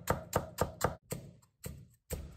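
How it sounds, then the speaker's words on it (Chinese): A knife chops a green onion (scallion) on a board in seven crisp, close taps: four quick evenly spaced strokes, then three slower ones with short pauses between. "准备一根大葱，用刀切碎"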